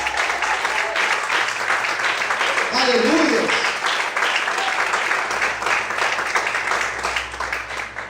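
Church congregation applauding during a sermon, steady dense clapping filling the space with a voice calling out over it.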